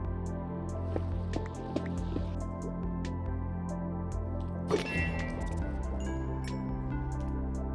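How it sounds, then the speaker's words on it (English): Block-breaking in a Minecraft ocean monument: watery drips and soft squishy pops from sponges being mined underwater, repeated at an irregular pace over a steady low ambient drone, with one sharper splashy burst midway. "let's go and mine up as many sponges"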